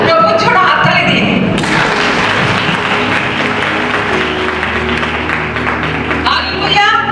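A church congregation claps for the Lord, a dense and loud run of applause in a hall, mixed with voices and thumps, that eases slightly near the end.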